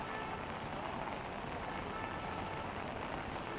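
Steady, heavy rain pours down across Ahmedabad, a dense continuous wash of falling water that fills the whole stretch evenly with no voices over it.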